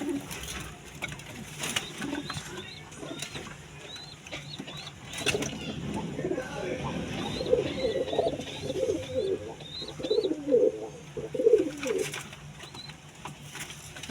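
Karna pura pigeons coo repeatedly in soft rhythmic bursts, with some scuffling and wing flaps as a pair fight nearby; a faint voice speaks briefly in the background.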